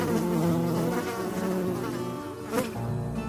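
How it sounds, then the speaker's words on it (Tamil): A wasp buzzes close by the ear in a Tamil children's story, a steady insect drone with a brief swell near the end. "இதோ என் காது பக்கத்தில் பறக்கும் குளவியை பார்த்தாயா?"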